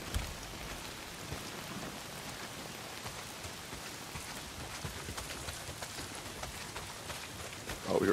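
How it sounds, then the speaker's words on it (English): Heavy rain in the video game Days Gone, a dense steady downpour of drops on surfaces with a faint low rumble beneath, constant throughout and rising in loudness at the very end. "Well, not if it's pissing down rain."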